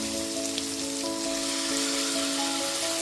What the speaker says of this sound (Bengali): টমেটোর পেস্টটা দিয়ে দেওয়ার পর খুব ভালো মতো মিশিয়ে একটুখানি টমেটো কষিয়ে নেব